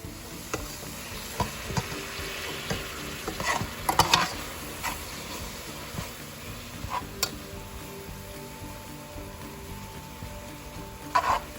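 Spinach sautés quietly in a pan with a soft, steady sizzle, broken by occasional light stirring taps and scrapes.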